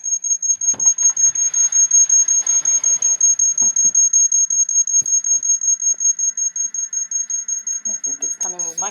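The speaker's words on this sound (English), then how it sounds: "I keep hearing a beeping." A steady high-pitched electronic beep pulses rapidly and continuously throughout, with a person speaking quietly underneath at times.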